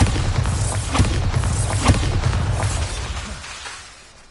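In Hogwarts Legacy, a Bombarda blasting spell goes off in a cluster of booming thuds, several sharp blasts over about three seconds before fading out.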